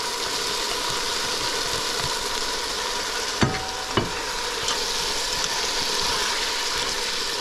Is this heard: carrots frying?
yes